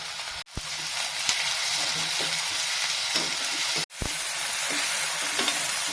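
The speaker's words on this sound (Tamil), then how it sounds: "இப்போ நம்ம வெங்காயமும் தக்காளி பூண்டு போட்டு நல்லா வதக்கிட்டு இருக்கிறோம்" Onion, tomato and garlic sauté in a pan with a loud, continuous sizzle and occasional stirring scrapes. The sound drops out in two brief silent gaps.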